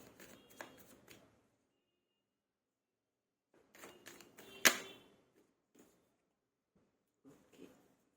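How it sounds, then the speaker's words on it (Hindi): Tarot cards are shuffled and drawn in a quiet room, with soft riffling flutters, then a cluster of slaps and one sharp snap of a card, followed by faint scattered card handling. "एक और कार्ड निकाल के फिर रीडिंग स्टार्ट करते हैं।"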